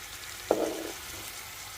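Seasoned meat fries in a pan with a low, steady sizzle, broken by one sharp, brief crackle and a short burst of stirring partway through.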